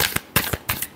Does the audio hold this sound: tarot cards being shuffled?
yes